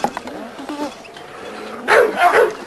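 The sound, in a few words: old dog K2 barking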